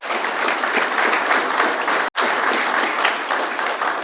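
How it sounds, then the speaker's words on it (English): A round of audience applause at a Fire & Rescue EMS awards ceremony, steady dense clapping with a brief break midway before continuing at the same level. "So let's give her a round of applause."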